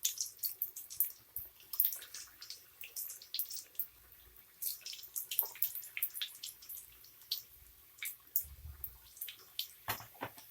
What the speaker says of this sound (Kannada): ಇದೇ ಥರ ಎಲ್ಲ ಬಜ್ಜಿನೂ ಫ್ರೈ ಮಾಡ್ಕೊತೀನಿ ನಾನು.